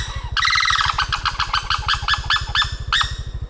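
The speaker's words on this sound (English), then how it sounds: "Whatever he is, he's a big bird." A big bird in Cambodia calls loudly and close by, a rapid string of harsh, repeated notes in short bursts over a low, pulsing throb, with no talk.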